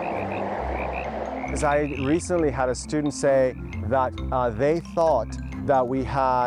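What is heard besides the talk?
tree frogs calling loudly in spring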